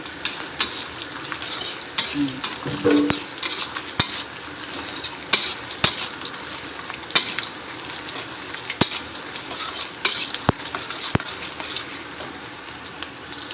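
Rice stir-fried with salted fish until crispy in a pan, a constant crackling sizzle broken by sharp spatula scrapes and clicks at irregular intervals.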